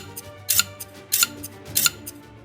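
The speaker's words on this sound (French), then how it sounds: "Le son de ciseaux résonna dans le silence." Scissors snipping through hair, three sharp crisp snips at a steady rhythm with faint ticks between, close and isolated against quiet.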